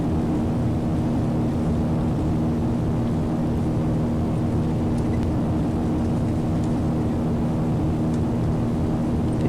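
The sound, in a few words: Dornier Do228 turboprop engines in reverse thrust on landing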